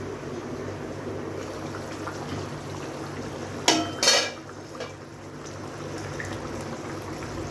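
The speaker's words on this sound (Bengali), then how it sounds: "একটু ফুটে উঠলে ঢেকে দিলাম, 5-10 মিনিটের জন্য ঢেকে দিলাম" A mustard hilsa fish curry simmers quietly in a covered pan, a low bubbling hum broken once by a brief metallic clatter of the lid or utensil.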